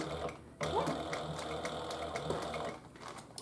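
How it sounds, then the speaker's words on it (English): Running steadily close by, a sewing machine stitches the top zipper of a Paulette handbag with a rapid mechanical chatter and small periodic clicks, pausing briefly near the start and easing off at the end. "And we're just sewing along."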